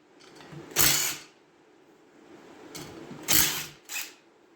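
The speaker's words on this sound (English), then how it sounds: "Now I've just got to get these 3 bolts taken off." A ratchet loosens bolts on a Honda ATC90 rear rim in short mechanical bursts: one near the start, then two more close together, with quiet pauses in between.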